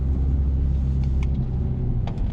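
A car engine hums low and steady just after the shift into second gear during a learner driver's lesson, a constant rumble with faint clicks above it.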